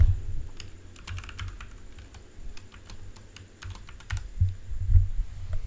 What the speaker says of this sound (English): I just need to type in the name of the sheet